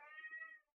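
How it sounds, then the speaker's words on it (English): A cat gives a single short meow, soft and close, fading out after less than a second. "but she keeps on meowing."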